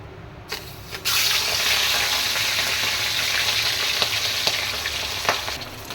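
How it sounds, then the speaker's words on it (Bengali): A piece of large local rohu fish slides into hot oil, jumping from quiet into a loud, continuous crackling fry that carries on steadily with scattered spits and pops, close by and without speech. "এবার আমার তেলটা হয়ে গেছে গরম, আর মাছটা এবার আমি একটা একটা করে ভেজে নেব।"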